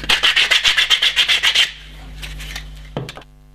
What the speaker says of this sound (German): Die Kanten, die breche ich mit Schleifpapier